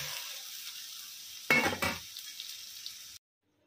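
Rice is stirred into frying spices and coriander powder in a pan, a soft sizzle with a brief burst of scraping and stirring midway before cutting off.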